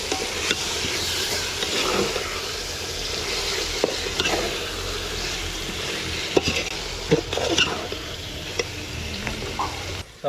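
Chicken fries and is stirred for biryani in a large pot of basmati rice, giving a continuous hissing sizzle with intermittent scraping and clinking strokes.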